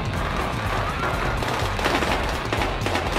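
Gunfire crackles in the video game Battlefield Hardline, a dense continuous spray of shots and rattling bursts over a noisy game mix.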